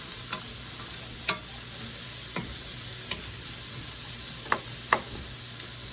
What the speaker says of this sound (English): We're gonna push in all of our onions, all of our celery. And we're gonna sweat